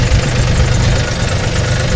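A tractor engine runs steadily at close range, a loud continuous low rumble with an uneven, knocking idle throb and no voices over it.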